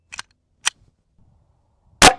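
A 9mm handgun fires into stacked cutting boards, a single sharp, loud crack at the end that comes after a couple of faint clicks and near silence.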